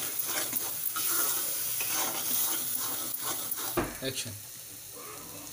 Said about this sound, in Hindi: मसाले को थोड़ा सिकने देंगे।